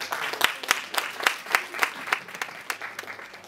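A live audience at a comedy show bursts into applause, a run of sharp, fairly sparse individual claps close by, rising and falling in waves over a few seconds.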